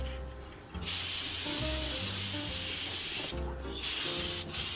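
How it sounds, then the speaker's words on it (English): A spray gun hisses in long steady bursts while coating a handmade wooden heart jewelry box, with short pauses between passes; the spray is close and loud, with background music underneath. "Doing the dance of the spray gun."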